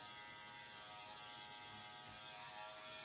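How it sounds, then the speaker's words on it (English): Andis Master electric hair clippers run during a men's pompadour haircut, a faint steady buzzing hum with a fine whine that carries on without a break. "right now I'm using the Andis Master Clippers"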